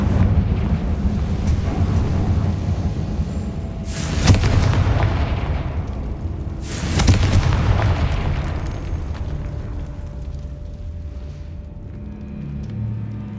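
Two Confringo blasting-curse explosions in Hogwarts Legacy, each a sharp, booming burst about three seconds apart over a constant rumbling, wind-like ambient bed, loud and without speech.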